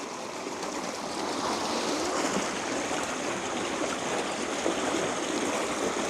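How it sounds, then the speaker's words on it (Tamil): Water rushes steadily along an irrigation canal toward village paddy fields, a continuous broadband gushing and trickling that stays close and even for the whole stretch with no voices. "சத்தத்தை பார்த்தீங்களே இது வந்து வயலுக்கு போய் கொண்டிருக்குங்க தண்ணி இதெல்லாம் அப்படியே போய் வயலுக்கு போகுது"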